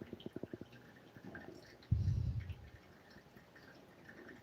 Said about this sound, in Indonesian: Nah, ini tetesan yang terakhir ya.